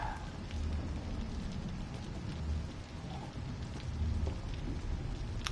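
Thunder rolls in low, heavy waves under steady pouring rain in the horror video game Observer, swelling twice across a few seconds with no talk.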